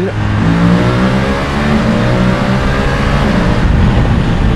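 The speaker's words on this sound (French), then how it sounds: "ce moteur il monte vraiment dans les tours" A BMW F850 GS motorcycle engine revs hard up through 3000 to 6000 RPM and holds at high RPM, a loud, continuous buzzing roar with no voices over it.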